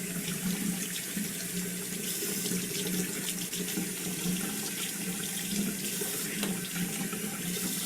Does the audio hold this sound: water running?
yes